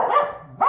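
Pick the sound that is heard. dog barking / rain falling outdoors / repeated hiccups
dog barking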